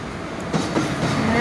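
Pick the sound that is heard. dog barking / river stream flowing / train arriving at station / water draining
train arriving at station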